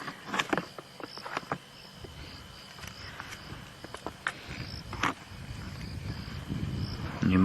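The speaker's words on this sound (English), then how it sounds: "And you might also just be able to hear the sounds of a few crickets, and I can hear a mole cricket going in the grass." Crickets chirp faintly in grass on an African savanna at sunset, with a mole cricket churring nearby; a steady high insect trill runs throughout, broken by scattered short clicks and rustles.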